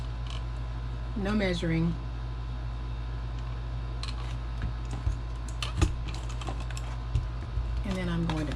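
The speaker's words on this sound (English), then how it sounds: "I am going to use my 1/8 hole for this. And I am just eyeballing where I punch my holes" A 1/8-inch hole punch snaps through a rustic holiday craft bag in a few sharp clicks and creaks scattered among quiet handling, with a steady background hum and a voice speaking briefly.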